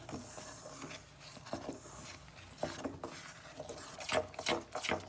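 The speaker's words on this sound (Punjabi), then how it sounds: "ਹੁਣ ਆਪਾਂ ਨਾ ਆਟੇ ਦੇ ਵਿੱਚ ਇਹਨੂੰ ਮਿਕਸ ਕਰ ਦਿਆਂਗੇ" Jaggery being worked into wheat flour dough by hand, with soft, irregular rubbing and scraping against a bowl that grows busier toward the end, close by and fairly quiet.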